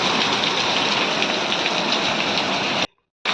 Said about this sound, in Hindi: आज हमारे तरफ बहुत ज़्यादा बारिश हो रही है